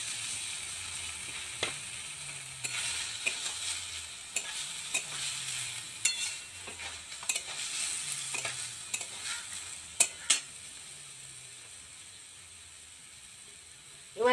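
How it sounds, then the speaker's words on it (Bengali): Banana flower drops into a hot pan for a shrimp mochar ghonto and fries with a steady hiss, stirred with repeated scraping and clinking strokes, a few sharp knocks, nearby and without talk. "এবার দিয়ে দেবো মোচাগুলো।"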